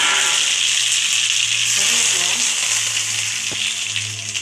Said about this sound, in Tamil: இப்போ தாளிப்பு போட்டுடலாமா?